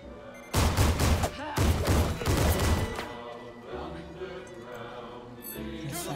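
Video game gunfire from Assassin's Creed Syndicate: a loud rapid burst of overlapping shots in two dense volleys, then fading rumble and echoes with quieter background sound.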